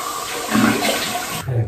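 Cold tap water gushes steadily from a faucet during a rinse while shaving, a loud close rushing stream lasting under two seconds before it cuts off.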